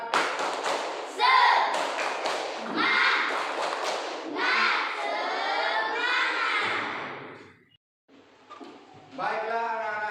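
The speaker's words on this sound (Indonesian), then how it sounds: "Tepuk semangat dulu." A class of children doing a rhythmic spirit clap (tepuk semangat) with their teacher, with bursts of claps and thumps alternating with loud chanted shouts and a brief pause near the end.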